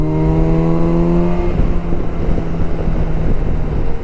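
Kawasaki Versys 1000 motorcycle riding in heavy road traffic, a steady engine drone with a harmonic whine that fades out, buried under loud rushing wind buffeting the microphone, with no voices.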